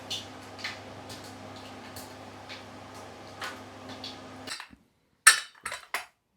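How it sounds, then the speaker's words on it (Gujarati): Dishes, pots and utensils are washed abroad, with faint, scattered clinks and clatters over a low hum that cuts out before a few final sharper knocks. "દેખાડજો ને કે જો વિદેશમાં આ વાસણ ધોયા"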